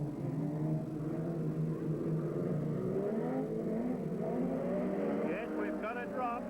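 Mini Modified race cars roar around Redline Raceway in Ballarat in 1991, several engines droning and rising together near the track, with a commentator's voice over the pack.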